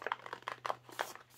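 A torn plastic bag holding a diamond art toolkit crinkles up close in a few short, quick rustles with no talking.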